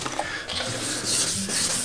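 Fine 1000-grit wet sandpaper rubs back and forth over a car headlight lens in short, soft, wet rasping strokes, close up.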